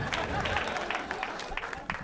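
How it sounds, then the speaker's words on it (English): Applause and scattered clapping from a stand-up comedy audience, a dense steady wash of many hands with crowd murmur and voices mixed in, continuous for the whole stretch. "Please give yourselves a round of applause."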